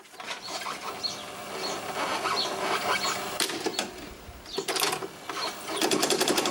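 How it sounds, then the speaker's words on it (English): Sanyo Betacord Beta video recorder rewinding tape, a busy whirring and clattering mechanical run with ticking and rattling bursts, fairly close and steady throughout with no talk. "There's no audio, so if I rewind."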